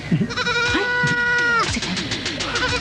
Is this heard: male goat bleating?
yes